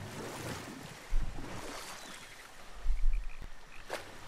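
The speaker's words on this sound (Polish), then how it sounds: "Płyniemy sobie łódką." A boat sails across the water in God of War Ragnarök, with a soft continuous wash of waves and wind and a few louder low swells of water against the hull.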